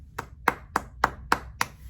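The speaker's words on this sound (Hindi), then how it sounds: "मैं ताली बजा रहा हूँ एक सेकंड" A person claps their hands six times in an even, steady rhythm, each clap sharp and close against a quiet background.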